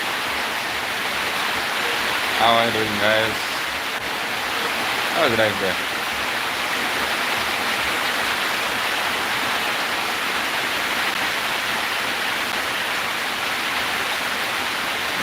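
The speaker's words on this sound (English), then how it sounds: "If you see, it's raining out there." Steady rain pours outside in a village, a dense even hiss that continues unbroken throughout, with someone talking briefly over it early on.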